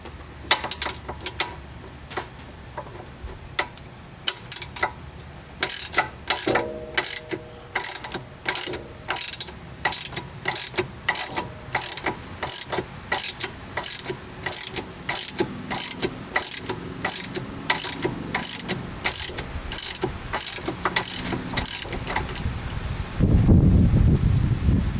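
A ratchet wrench removes nuts on a 2012 Honda Foreman ATV during a trailer hitch install, with long runs of rapid, evenly spaced ratcheting clicks, close and crisp, ending in a brief rustling thud.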